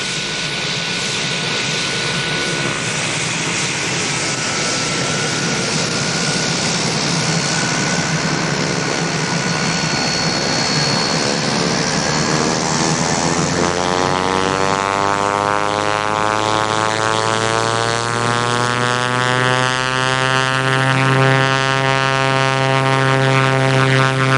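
A Pilatus PC-9A turboprop trainer taxis at Laverton, its propeller engine droning loudly and continuously, the tone rising and sweeping as power changes, recorded close from the cockpit.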